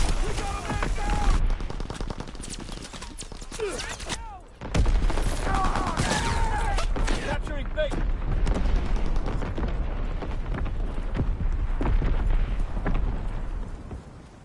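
Video game battle with dense gunfire and machine gun bursts, loud rapid crackling shots and booms layered almost continuously, briefly dropping out for a moment, with voices talking over the fire.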